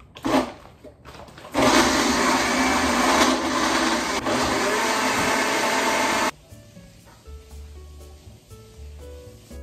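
A blender whirs loudly and steadily for about five seconds while making a smoothie, then cuts off abruptly, leaving quiet kitchen background.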